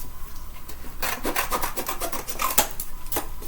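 A stained glass circle's edge is trimmed with a rapid series of scraping, rasping strokes, close and fairly loud, coming in quick bursts after a quieter start.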